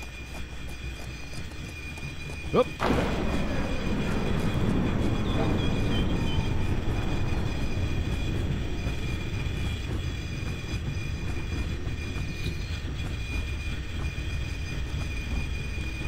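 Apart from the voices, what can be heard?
train passing in video game Infra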